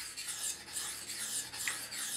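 A knife blade is sharpened freehand on a stone, giving a steady, soft rasping scrape in repeated strokes, close and quiet with no talking.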